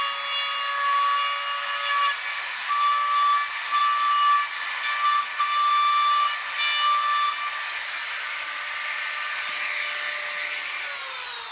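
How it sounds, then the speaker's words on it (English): A Dremel rotary tool cuts a round opening, a high-pitched whining buzz that rises and dips in short bursts as the bit bites in and eases off, close and loud, then settles into a steadier whine. "I'm just going to use a Dremel tool and try to cut a nice round shape"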